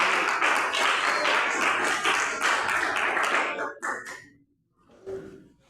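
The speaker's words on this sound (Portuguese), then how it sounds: "As palmas para Jesus." A church congregation claps for Jesus in a dense, steady stream of applause that continues for several seconds, then breaks off into scattered quieter sounds and a brief pause.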